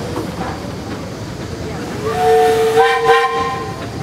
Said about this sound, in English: Bob, the engineer up there, you got a whistle.